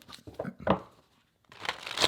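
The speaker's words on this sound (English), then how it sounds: "give it a quick shuffle again" A holographic Rider-Waite tarot deck is shuffled by hand, giving soft crisp riffling and sliding card bursts with a short pause between them, close and fairly quiet.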